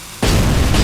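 A grenade blast in RoboCop: Rogue City hits after a short quiet lead-in, a loud broadband burst that holds at full strength as a dense roar for the rest of the moment.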